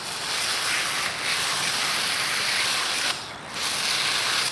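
A pressure washer on an angled spray setting blasts water onto bicycle chain rings, a steady loud broadband hiss that briefly dips near the end and then resumes, close and continuous with no talk.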